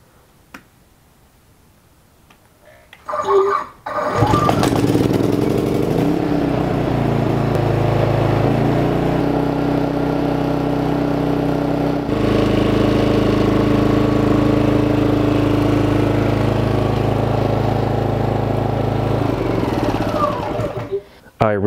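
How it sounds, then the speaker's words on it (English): A MaXpeedingrods MXR 3500W dual fuel inverter generator running on propane is started electrically and runs steadily and loudly for about seventeen seconds, its engine note shifting once partway through, then it shuts down. "So I will just start it up, let it run for a few seconds,"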